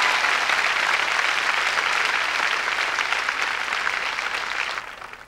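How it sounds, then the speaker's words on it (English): Sustained applause from a large studio audience at the 1994 MDA Telethon rolls on steadily at full volume, then thins and fades away in the last half second. "you can applaud if you want to because I think Jerry does a good job"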